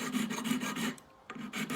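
A hand file with a safe side rasps across dovetail bevels on steel gun barrel lugs held in a vise, making close, rhythmic back-and-forth strokes with a short pause before filing resumes.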